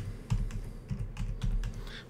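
Keys clatter on a computer keyboard set off to the side during PS2 emulator setup, a quick irregular run of clicks and thumps at moderate loudness with no talking.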